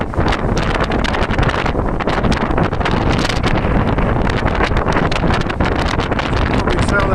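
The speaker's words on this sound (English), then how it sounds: "Probably tell that wind is a little bit outside" Strong wind buffets the microphone on a boat travelling along the Thames, a loud, continuous rushing roar with gusty flutter that fills the whole scene.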